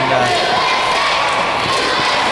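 A pro wrestling crowd roars steadily for Tricky Dick Moore, a dense, continuous wash of cheering and shouting in an arena while a commentator talks over it.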